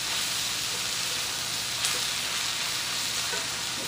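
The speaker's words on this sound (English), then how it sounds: "Alright, that is looking good. Just stir that around." Ground turkey curry sizzling and being stirred in a pan, a steady broadband frying hiss with faint scraping, moderately quiet and continuous without voices.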